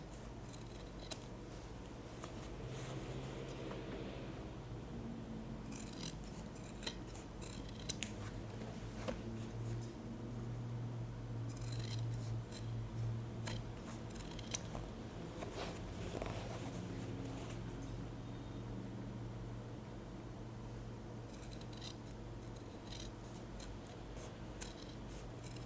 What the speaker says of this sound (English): You can trim the fabric slightly to make sure that the seam is not visible in